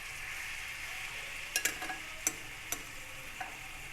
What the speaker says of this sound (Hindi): इसे हमने लो मीडियम हीट पे फ्राई करना है, ज़्यादा तेज़ आंच पे फ्राई नहीं करना।